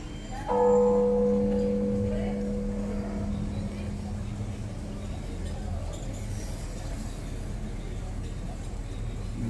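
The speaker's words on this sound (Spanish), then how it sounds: "aquí están escuchando ustedes las campanadas, suenan sistemáticamente, todas sincronizadamente a las 12 del mediodía" Church bells of a small mining town strike at noon, a bright tone opening the clip and fading over several seconds beneath steady outdoor background noise.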